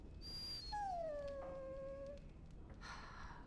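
A dog in the Dragon Age: Origins video game gives one long, drawn-out whimpering whine that slides downward, fairly faint over a steady low background hum, with no talk.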